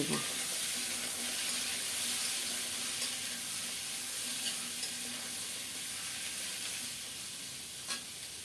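Radish pieces fry in hot mustard oil, the same oil just used for rohu fish, with a steady crackling sizzle and occasional stirring noises throughout.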